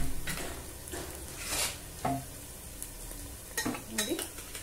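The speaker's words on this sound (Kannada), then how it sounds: "ಇವಾಗ ನಾನು ಅವರೆಕಾಳನ್ನ ಓಪನ್ ಮಾಡಿ ಸೇರಿಸ್ತೀನಿ." Field beans (avarekalu) are tipped into onions frying in a pan for upma, bringing a low sizzle with a few clinks and scrapes of a utensil against the pot.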